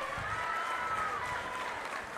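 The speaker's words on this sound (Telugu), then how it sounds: "ఇచ్చుంటే గట్టిగా చప్పట్లు కూడా చెప్పండి." A large crowd at a political rally applauds from a distance, a faint, steady wash of clapping mixed with crowd murmur and a thin whistle-like tone, with no clear talk.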